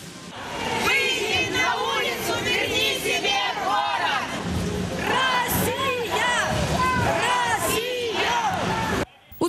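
Marchers at a rally in Odesa chant slogans in unison, loud and rhythmic, with voices rising in repeated shouted phrases over general crowd noise, ending abruptly.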